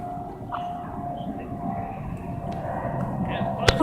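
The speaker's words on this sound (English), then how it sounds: "It's coming down to land in the airport." A jet airplane descends toward an airport to land, its steady broadband roar filling the scene from a moderate distance, with faint rumbling texture and no voices.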